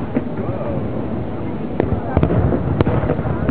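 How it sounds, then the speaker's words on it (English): Fireworks set to music crackle and thump in scattered pops against a dense rumble, with distant voices murmuring through the outdoor noise. "The fireworks went to music."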